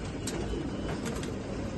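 Pigeons coo softly at a bird market, a few low murmuring calls heard faintly against a steady background hum, with no talking.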